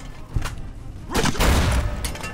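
Grenades in Fallout: New Vegas burst in quick succession, a short thump first and then a heavier pair of loud booms with a rumbling tail, all close and unaccompanied by talk.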